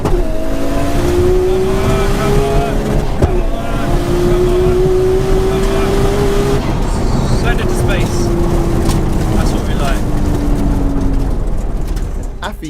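A Nissan Skyline R34 GTR race car accelerates hard down a drag strip, its engine roaring loud and continuous with rising gear-by-gear pitch sweeps, a brief shift break, then tapering as it runs away.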